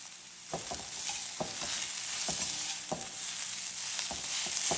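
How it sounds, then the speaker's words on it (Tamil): Ridge gourd fries in oil with a continuous hissing sizzle, and light, evenly spaced taps of a stirring spoon sound over it. No one speaks. "இந்த மாதிரி எண்ணெய் நல்லா வறுத்து எடுத்துக்கணும்."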